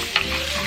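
Garlic hits a hot pan that has just been used to cook beef, giving a short, close burst of sizzling and stirring that lasts under a second.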